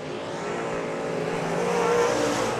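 Stock cars roar around the oval during an A-main feature at Raceway Park (Interstate Speedway), a loud, continuous wash of engines that swells slightly as the pack passes, with no talk.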